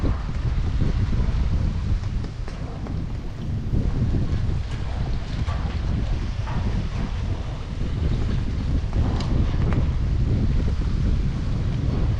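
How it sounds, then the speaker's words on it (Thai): Strong wind at a reservoir campsite at Kaeng Krachan Dam, blowing as a loud continuous roar and buffeting rumble across the microphone, with no voices over it. "ลมเริ่มมาแรงแล้วครับ"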